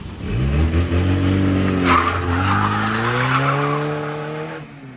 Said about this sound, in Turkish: İyi dinlet abi egzosu